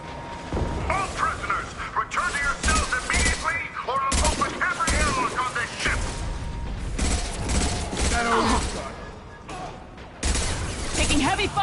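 Heavy gunfire in the Mass Effect 2 video game: dense bursts of shots and impacts rattle on for several seconds, mixed with mechanical clatter while voices talk over and between them.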